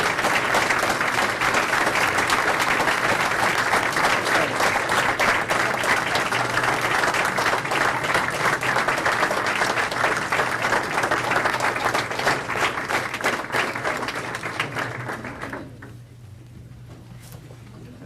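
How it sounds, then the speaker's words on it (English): A roomful of people at a village board meeting applauding Mike Flynn, a steady crackle of many hands that stays loud for about fifteen seconds, then tapers off quickly into near quiet at the end. "can we just give Mike Flynn a round of applause?"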